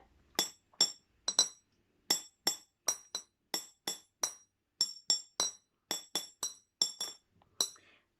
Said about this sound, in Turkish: Çay kaşığı da sert olduğu için birbirlerine temas ettiğinde bardağı yanlışlıkla kırabiliriz.